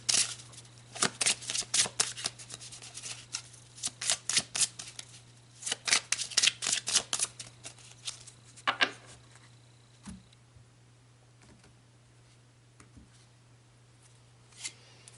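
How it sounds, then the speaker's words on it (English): Tarot cards being shuffled in a quiet room, a rapid run of riffles and slaps in bursts during the first half, thinning to a few soft flicks and then near silence with a steady low hum. "So let's pull some cards to see what's going on over on this side."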